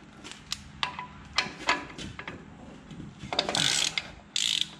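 A ratchet wrench clicks loudly up close while loosening the lock nut on a Dana 44 axle hub of a square-body truck. Bursts of rapid pawl clicks come in uneven strokes, with a couple of sharper metallic rasps near the end.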